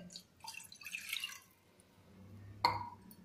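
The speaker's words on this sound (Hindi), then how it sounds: "अब इसमें हम एक छोटा गिलास पानी डालेंगे" A small glass of water is poured into a pressure cooker on a gas stove, giving faint splashing and trickling, then one sharper drip or clink near the end.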